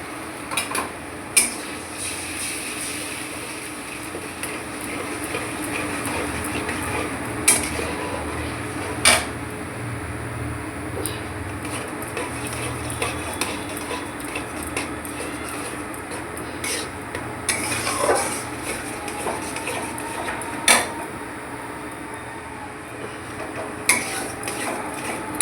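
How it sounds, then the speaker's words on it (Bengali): A spoon stirring veg Manchurian masala in a pan, with scraping and occasional sharp metallic clinks against the pan over a steady low frying hiss, continuous for a long stretch. "নাড়াতে থাকবো"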